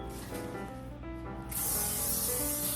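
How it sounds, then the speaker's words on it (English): A short spray of cooking spray onto a pan hisses loudly and continuously for over a second after some quiet handling noises, close and bright. "You want to spray it just a bit so it doesn't stick."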